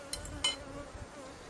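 About three pounds of honey bees buzz inside a container, making a soft, steady drone with a couple of brief, sharper flutters near the start.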